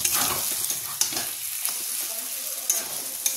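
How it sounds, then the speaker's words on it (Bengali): Minced meat keema stir-fried in a kadai, sizzling steadily while a spatula scrapes and knocks against the pan in a few sharp clicks, close and alone without talk. "কিমাটা ভালো করে কষা হয়ে গেলে দিয়ে দেবো"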